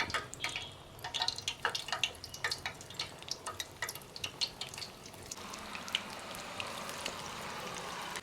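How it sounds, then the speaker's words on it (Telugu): Boneless fish pakoda pieces go into hot oil with a series of wet drips and crackles, settling into a faint, steady frying hiss; quiet and close, with no talking. "ఆయిల్ కాస్త వేడి చేసుకోవాలి ఇందులోకి మన ఫిష్ కబాబ్ని ఫిష్ పకోడాని వేసుకోవాలి"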